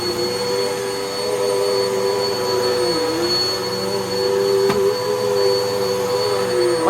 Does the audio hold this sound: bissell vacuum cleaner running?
yes